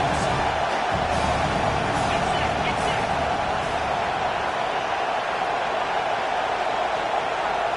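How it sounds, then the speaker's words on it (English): A stadium crowd in a Madden football video game gives a steady, dense roar and rumble on fourth down, sounding continuously under a commentator's voice. "4th down, and this crowd is making it miserable on this offense."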